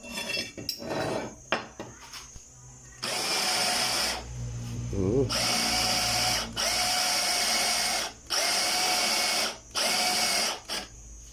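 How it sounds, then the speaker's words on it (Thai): A power drill with an arrowhead bit whines in several sustained bursts, boring into steel with grinding and rattling, separated by short pauses; a voice speaks briefly early on. "ลองเจาะเหล็กดูก่อนครับ"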